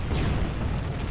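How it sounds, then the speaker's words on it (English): Explosion in the video game Halo: Combat Evolved, a loud, dense, sustained rumbling roar filling the whole clip without distinct separate blasts. "Alright, let's get that explosion first."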